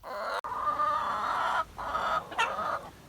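Hens cluck steadily and loudly while pecking at GrubTerra chicken treats, a dense overlapping chorus with a few brief breaks.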